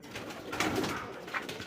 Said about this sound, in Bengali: এটা হচ্ছে লাল চুল্লি একটা কবুতর।